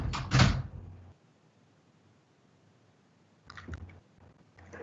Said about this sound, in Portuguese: Deixa eu fechar aqui a porta, peraí.